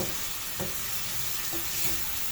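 Rice sautés in a pan with a constant even sizzle while a utensil stirs it, a couple of soft scrapes showing through the frying hiss.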